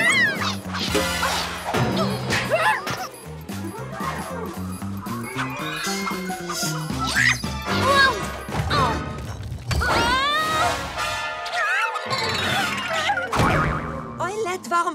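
A statue smashes to pieces in a cartoon, with loud crashing and whacking impacts under constant animated voices, music and effects throughout.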